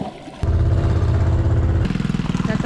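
An underbone motorbike used as an ojek taxi in Banda, Indonesia, kicks in abruptly and runs with a loud, close, steady mid-pitched engine drone, then shifts to a choppier pulsing rhythm as it moves along.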